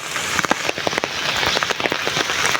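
Heavy rain pours steadily over open farm fields beside a canal in a Bangladeshi village, a dense continuous hiss broken by sharper drop impacts, close and loud with no voices.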